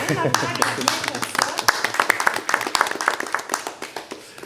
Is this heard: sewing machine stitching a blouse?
no